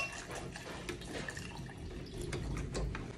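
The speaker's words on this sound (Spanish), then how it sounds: "aquí voy a echar agua" Water poured into a blender jar holding cucumber and lime for agua fresca, a quiet, steady splashing trickle with small drips, heard alone.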